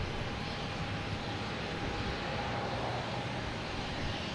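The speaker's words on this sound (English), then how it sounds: "Next to take off is Air Canada special livery." An Air Canada Airbus A220 in Trans Canada Airlines special livery takes off at Boston Logan, a steady, broad jet roar that holds at a fairly distant, even level throughout with no voices.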